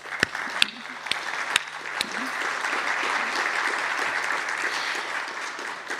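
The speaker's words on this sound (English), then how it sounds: "I'd like everyone to thank our panel and to give them a big round of applause" A climate summit audience applauds a panel discussion on regenerating Australia: sharp early claps grow into a dense, steady roomful of clapping that holds for several seconds, with a faint voice briefly underneath.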